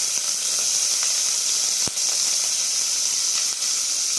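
Sliced shallots frying in oil in a pan for a thalcha, a steady, fairly loud hiss and sizzle throughout with a couple of soft clicks, no talk.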